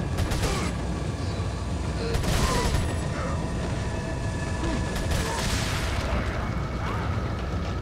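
Gunfire from a weapon in Resident Evil 4, a steady run of dense, loud shots and mechanical clatter filling the whole stretch with a few sharper bursts, while a voice talks faintly underneath.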